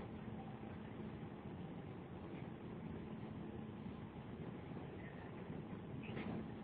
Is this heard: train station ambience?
yes